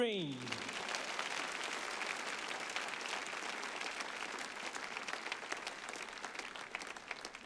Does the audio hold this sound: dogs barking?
no